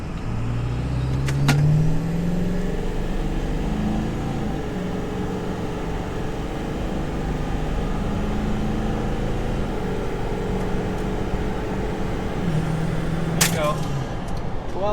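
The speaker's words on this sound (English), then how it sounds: "we're gonna brake torque it again" A 4x4 truck engine held against the brakes for a torque launch, a continuous low roar with gear-like whine rising and falling, loud and close inside the cab throughout.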